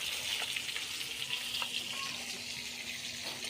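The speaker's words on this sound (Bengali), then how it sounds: "আমি মাছগুলো আস্তে আস্তে সব ভেজে নিচ্ছি, আর তাপ প্রচুর আসতেছে" Fish frying in a pan over high heat, a steady close sizzle and crackle throughout with faint scraping, no voices.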